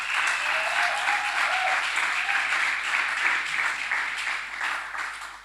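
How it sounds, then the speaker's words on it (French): A live audience at a church gathering applauds a speaker who is physically present, steady dense clapping holding at full strength for several seconds, with a faint voice briefly audible under it. "Donc, on peut l'applaudir"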